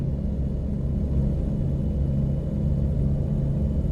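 Volvo truck in American Truck Simulator with a low, steady engine rumble, an engine brake droning quietly and continuously throughout, no talking.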